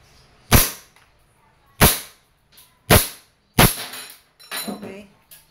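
A WE M-92 silver airsoft pistol fires five sharp, snappy shots at roughly one-second intervals, close and loud, with quiet pauses between and faint mechanical rattles after the last shots.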